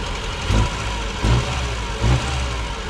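Engine of a vintage 1968 BMW 1602 idling roughly, with three short throttle blips lifting the revs about once every 0.8 seconds, heard close by with no voices.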